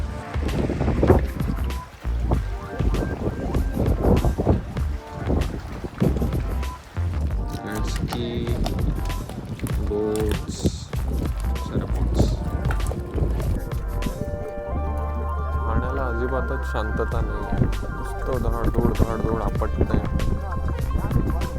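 Strong wind roars across the microphone with the wash and slap of waves on Tehri Lake, Uttarakhand, a steady blustery din throughout, with music-like tones later.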